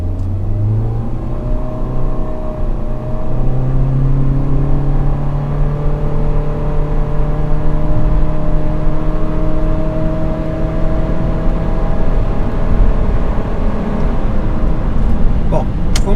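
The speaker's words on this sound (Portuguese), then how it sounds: "Agora o que nós vamos fazer é fazer a mesma aceleração com o câmbio na posição low." A Ford Ecosport or Nissan Kicks automatic car accelerating with the transmission held in low, engine note rising steadily and loudly over many seconds, staying in one gear, with a rising whine.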